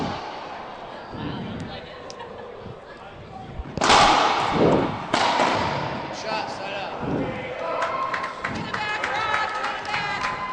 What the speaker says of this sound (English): Crushing forehand kill shot by Waselenchuk.